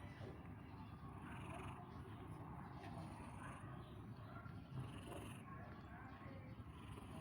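A cat purrs softly and steadily up close, a low continuous rumble throughout, with faint murmuring over it.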